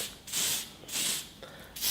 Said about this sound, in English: you can spray that on your clippers to sort of oil up your clippers